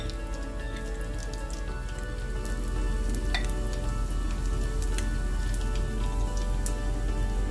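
Cauliflower florets frying in hot oil for Gobi Manchurian, giving a steady dense sizzle with crackling pops that swells louder partway through and holds, close and with no talk over it.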